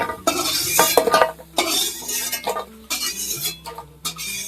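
A new metal spatula scrapes and stirs food in a wok, making repeated loud rasping strokes with metallic clinks in an uneven rhythm close by.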